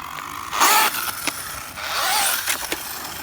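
The small motor of a Traxxas Slash 2WD RC car with a stripped gear whines up in short bursts with a harsh grinding, ratcheting rasp, close by, with brief pauses between revs.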